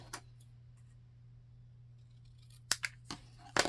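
Scissors snip through craft material in a few sharp, close cuts, a quick pair near the end, over a steady low hum in an otherwise quiet room.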